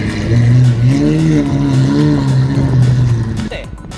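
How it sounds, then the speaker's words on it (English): A Lamborghini Aventador SVJ with a quad exhaust revs loudly and steadily up close, its deep exhaust note rising and falling continuously, with a voice talking over it. "Still got that quad exhaust too."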